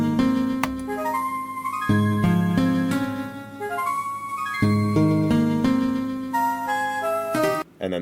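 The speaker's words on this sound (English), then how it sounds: "And Cianwood in the remake sounds like this." Cianwood City theme from the Pokémon HeartGold/SoulSilver remake plays alone, a melodic game soundtrack with layered sustained tones and bright plucked notes, moderately loud throughout.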